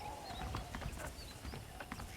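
Faint, steady clip-clop of saddled horse hooves trots along under a dense, hissy background, in the video game Red Dead Redemption.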